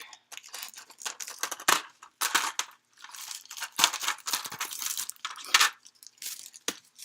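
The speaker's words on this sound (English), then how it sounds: "Let's see if I can cut the plastic" Scissors cutting through a thin plastic measuring cup, a run of sharp, crackling crunches and snips in quick irregular bursts, close and fairly quiet.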